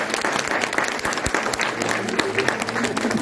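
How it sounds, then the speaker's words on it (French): Audience applause fills a French municipal event honoring a deputy mayor for youth and sport, a steady crackle of many hands with some voices mixed in. "on peut l'applaudir"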